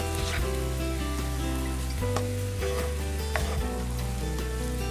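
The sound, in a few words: stirring beef stir fry with vegetables in a pan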